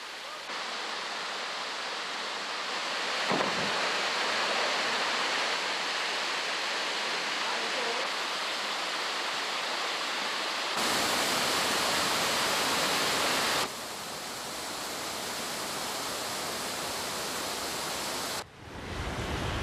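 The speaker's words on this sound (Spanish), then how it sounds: "Es la llamada Cascada de Rochester" The Rochester waterfall in Mauritius pours in a loud, unbroken rush of water with sudden jumps in level, and brief speech can be made out over it.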